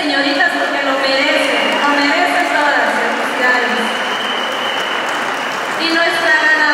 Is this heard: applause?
yes